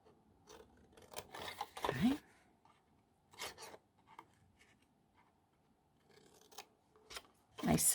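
Close scissors snip and crunch through stiff card in several separate cuts, with quiet pauses between them and a soft voice now and then.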